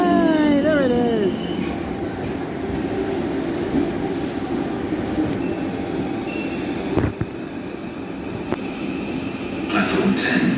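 A South Western Railway Class 707 electric train rumbles along with a steady, loud rolling roar, brief wheel squeals at the start and a few sharp clunks, heard from on board.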